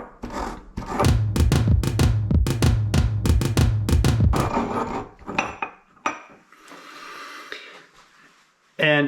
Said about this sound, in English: We add in about a tablespoon of sugar and proceed to grind it up into a powder.